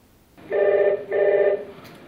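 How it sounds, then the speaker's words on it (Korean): An emergency 119 line rings in a fire and rescue control room, two even electronic telephone trills in quick succession, clear and close with no talk. "119 긴급 전화가 오늘도 어김없이 상황실에 울립니다."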